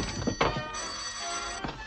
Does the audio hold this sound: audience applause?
no